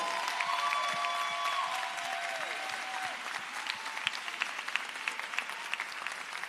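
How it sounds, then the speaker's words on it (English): Crowd applause at a live political tour rally in New Orleans, a broad sustained clapping that thins into scattered individual claps toward the end, with a faint voice tone early on. "let's give Gary Chambers a round of applause for his leadership"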